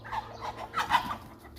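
Pure-bred Adler hens with chicks cluck in irregular bursts, soft and fairly close, with scattered calls overlapping a low background hum.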